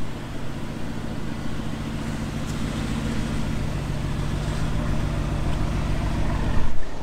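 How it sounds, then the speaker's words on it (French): A Mercedes-AMG GT S sports car passes through a Monaco street, its engine a steady broadband roar that swells slightly toward the end amid surrounding traffic noise, with no voices. "AMG GTS qui passe là"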